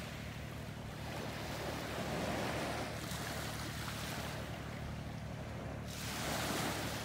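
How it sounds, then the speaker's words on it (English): Ocean waves crashing and washing over a sandy beach, a continuous roar of surf rising and falling in slow surges, with wind noise on the microphone and no talk. "the waves are crashing against the beam in the sand"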